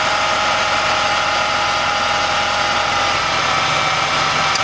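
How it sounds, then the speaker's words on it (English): Subaru Brumby engine fitted with a Weber carburettor running at a raised idle, a steady, even drone that stays loud and close throughout with no voices. "Okay, that's the highest idle I've got."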